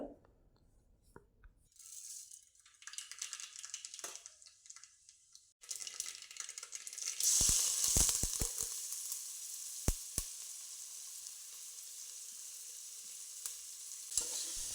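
Hot oil crackles and sizzles as spices hit it, growing louder partway through, with scattered sharp pops and utensil taps.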